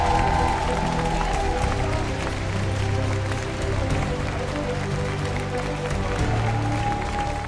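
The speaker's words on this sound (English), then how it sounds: "I love the fact that the team is still cheering as loudly as when Andrea Gatti here took third position overall in FES." Team cheering and applauding for a third-place finish at the Cybathlon 2024 competition, a sustained crowd roar with clapping that stays loud throughout, with talking over it.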